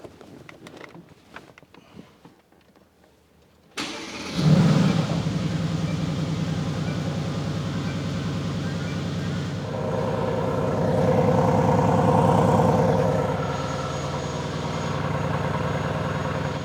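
A Mercedes-Benz AMG GT S, returned to stock, sits quiet with faint handling noises before its engine fires with a sharp burst, then settles into a steady close idle that swells into a fuller, louder rumble before easing back.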